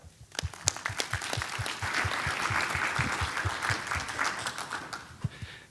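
A conference audience at ChefConf 2019 applauds as a speaker is welcomed to the stage, with dense sustained clapping from a crowd that swells and then tapers off.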